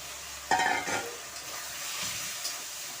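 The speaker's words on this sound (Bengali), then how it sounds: "এখন আমি মশলাটা ভালোভাবে কষিয়ে নেব" Spice masala with homemade yogurt being sautéed in a pan, opening with a sharp clatter of stirring followed by a quieter, steady sizzle and faint scraping, close by with no voices.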